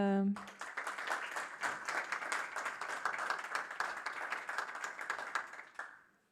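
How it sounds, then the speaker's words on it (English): An audience applauding steadily for several seconds, a dense patter of clapping that holds level and then fades away at the end. "give a round of applause for Alex"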